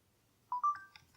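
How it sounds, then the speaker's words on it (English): A Betron NR-200 Bluetooth speaker gives a short rising power-on chime of three or four quick electronic tones, clear and close in an otherwise quiet room. "You will get a little chime and the Bluetooth indicator will turn on."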